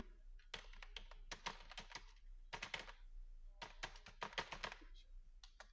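Typing on a computer keyboard while entering data into an Excel sheet: quick bursts of crisp keystrokes in uneven clusters, close and fairly quiet, separated by short pauses.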